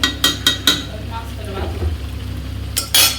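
Meat being sautéed and stirred in a pan: sharp clinks of a utensil against the pan open and close the passage, with a low sizzle and scraping stirs between them.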